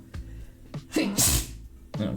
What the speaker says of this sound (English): Also, I'm gonna sneeze.